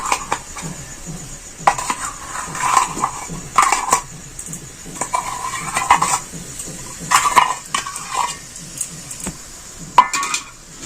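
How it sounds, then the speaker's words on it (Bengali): Jaggery filling for semolina bhapa pitha is stirred and mixed in a pot, with repeated scraping and clinking of a metal spoon against the pan in a steady rhythm, close and fairly loud, with no talk. "আবার এটাকে আমি খুব ভালো করে নেড়ে চেড়ে মিশিয়ে নিচ্ছি"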